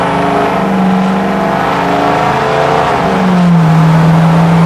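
A Ford 6.0L Powerstroke diesel with a fault code and shorting turbo wiring revs and builds boost, a loud steady engine drone whose pitch holds, dips and then climbs again over nearly five seconds, with no talk.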